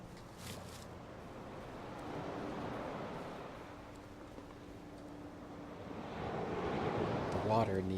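Water ambience in the We Happy Few early-access alpha, a continuous wash of surf-like noise with wind that swells and recedes over several seconds, steady and moderately loud with no clear individual splashes.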